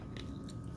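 Close, quiet crunching of someone biting into and chewing a fresh apple slice, steady mastication noises with brief crisp bursts, no talking.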